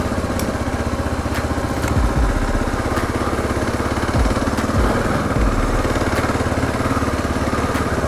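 Kawasaki KLR 650 dual sport motorcycle engine running steadily while riding up a forest road, a continuous loud single-cylinder drone with occasional low thumps and clatter, no talk.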